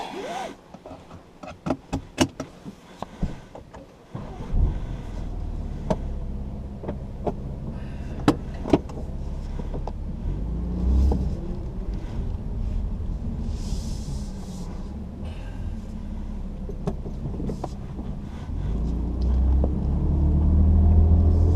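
A BMW M4 driving along a dry, empty road with a steep drop beside it: a steady low engine and road rumble builds and grows louder toward the end, after a few sharp knocks and clicks at the start.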